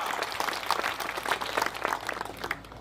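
Steady applause from a crowd at a first death anniversary memorial gathering, dense continuous clapping that holds at an even level throughout.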